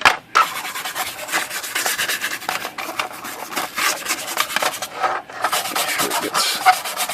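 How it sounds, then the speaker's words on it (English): A brush scrubs oil into the wrinkle paint finish of a Hermes Rocket typewriter, giving close, loud, continuous rhythmic bristly rasping strokes with only brief pauses. "I'm going to take another brush I use just for the oil process and just kind of rub it in this wrinkle finish"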